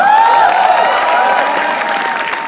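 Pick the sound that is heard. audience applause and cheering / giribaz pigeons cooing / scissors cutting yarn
audience applause and cheering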